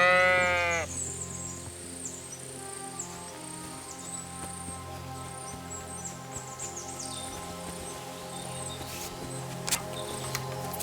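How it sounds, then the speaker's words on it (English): A lost ram in Kingdom Come: Deliverance II gives one clear, wavering bleat right at the start, then the sound settles into steady game ambience with a faint high whistling tone running throughout. "This must be the lost ram"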